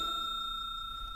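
A notification bell sound effect rings as a single clear, sustained tone that hangs steadily for over a second, fairly loud and alone, with no speech over it.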